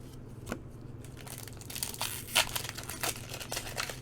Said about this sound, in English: All right, last packs of this case coming out of their box right now.